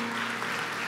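Continuous clapping from a church congregation during a Sunday morning service, a dense, even wash of applause filling the moment without any speech.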